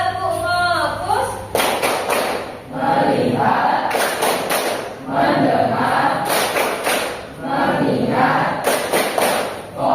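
Classroom students play a tepuk fokus focus game as an ice breaker, clapping in loud, rhythmic bursts in unison while voices chant along together.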